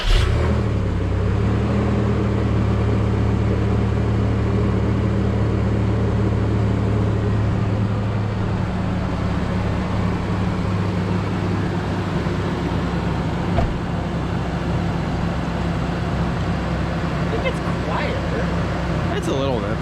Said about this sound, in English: we're gonna do a cold start